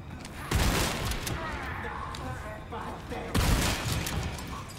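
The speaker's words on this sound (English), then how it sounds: "Shotgun." Shotgun blasts in the Resident Evil 4 Remake Separate Ways DLC, two loud broadband booms about three seconds apart over a steady bed of game noise.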